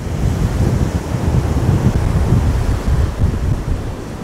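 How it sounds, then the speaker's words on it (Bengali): Sea waves surge and roar on a beach at dawn in Puri during rain, with gusty wind buffeting the microphone in a loud, continuous rumbling wash and no voices. "এইরকম দমকা হাওয়া দিয়ে বৃষ্টি হবে ভাবতে পারিনি।"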